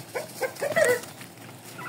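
Shamo roosters fighting, with a few sharp clucks and squawks and some scuffling at close range, fairly faint, with no talking.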